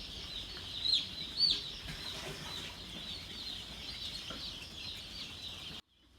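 Broiler chicks in a brooder house keep up a steady, high chorus of peeping at moderate distance, with a couple of louder cheeps near the start and no talking.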